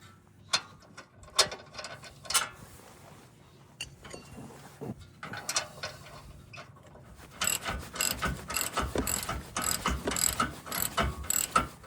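A hand ratchet threads a bolt into the crash bar of a 3rd-generation Toyota 4Runner, giving bursts of rapid clicking pawl strokes with short pauses, growing denser and louder in the final seconds, close up with no talk.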